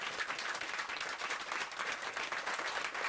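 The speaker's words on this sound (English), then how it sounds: "Just give them a round of applause." Studio audience on a television magazine show applauding steadily, a dense, even wash of many hands clapping throughout with no talk over it.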